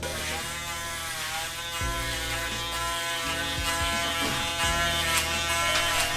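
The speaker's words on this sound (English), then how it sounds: "we always clean our foil shaver before we go to the top of the head" A close electric foil shaver buzzes steadily while shaving a head, its motor tone shifting slightly as it moves, with no voices.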